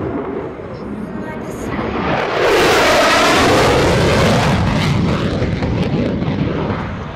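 An F-16CJ Fighting Falcon sweeps low past show center at an airshow just under the speed of sound, its jet roar swelling to a loud, sustained peak and then fading slightly as it passes, with a voice talking underneath.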